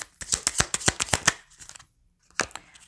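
A deck of playing cards is shuffled in quick, crisp bursts of riffling flutter, close and distinct, then stops briefly before one more short riffle.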